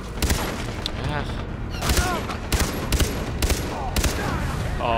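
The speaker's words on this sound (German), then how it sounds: "So wird geschossen." Far Cry 3 gunfire: several bursts of loud shots fire in quick clusters, with a voice talking over and between the volleys.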